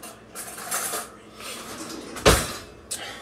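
A fork pulled from a kitchen drawer for flipping ribs: a drawer slides, cutlery rattles and clinks, then a sharp metallic clack and a smaller knock follow, close and moderately loud.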